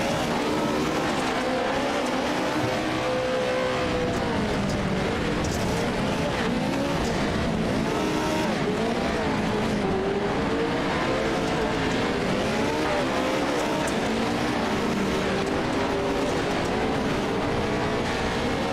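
Pro 4 off-road race trucks competing at Wild West Motorsports Park, engines roaring steadily with pitch rising and falling as they run the course, a continuous loud blur of motor noise with no clear gaps.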